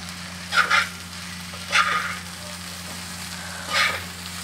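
Fasting potatoes fry in an iron pan, a low steady sizzle with a constant hum beneath it, broken by three brief scraping stirs.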